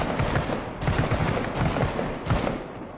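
Sustained gunfire in the tactical video game Menace, a dense, continuous clatter of overlapping shots in rapid bursts, loud and close, with no talking over it.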